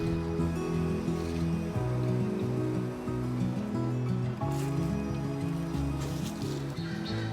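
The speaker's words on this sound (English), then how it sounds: "that wind is really ripping today" Strong wind roars steadily outdoors on a farm where guinea fowl are kept, a loud, continuous gusty rush that buffets close to the microphone throughout with no talking.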